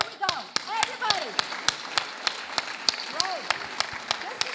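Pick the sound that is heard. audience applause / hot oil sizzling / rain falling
audience applause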